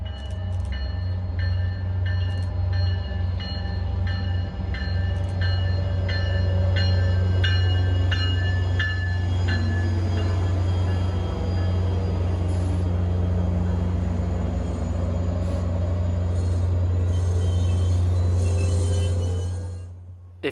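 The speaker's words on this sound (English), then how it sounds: "by the looks of it, a train is approaching" A freight train approaches Ayer Station with a loud, steady low rumble of locomotive and rolling cars. Rhythmic clanks and faint squeals sit on top, and the sound holds for the whole stretch before easing slightly at the end.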